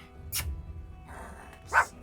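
A pet dog barks indoors, two or three short sharp barks at a fair distance, spaced apart over a quiet room background.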